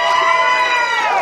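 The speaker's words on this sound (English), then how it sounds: "That's the loudest cheer we've had all weekend" Loud crowd in an arena cheering and shouting in celebration of the junior champion at the Kansas City Open, a sustained roar with no break.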